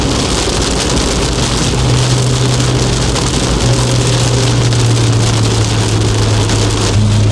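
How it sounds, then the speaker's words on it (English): Heavy rain drums steadily on a surface close by, a dense constant patter with a low engine hum running underneath. "it's raining pretty hard right now"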